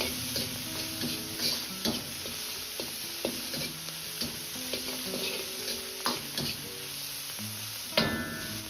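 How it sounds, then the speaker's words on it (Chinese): About ten grams of Pixian chili bean paste stir-fried in a wok make a continuous sizzle, broken by quick spatula scrapes and taps, with background music underneath. "接着放入10克左右的郫县豆瓣酱，炒出颜色和香味"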